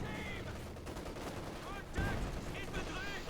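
Artillery bombardment in Company of Heroes 2, a dense mix of gunfire, whistling shells and a heavy thump around two seconds, with rattling battle noise throughout and someone talking over it.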